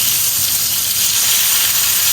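Fish coated in corn flour and eggs sizzles in a frying pan, a loud, steady, close hiss of hot oil with no pauses.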